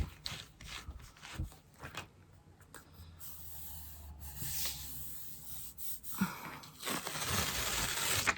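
A small ink stamp used for gel printing is rubbed clean, making uneven scrubbing and scraping strokes with a few soft knocks, close and moderately loud throughout.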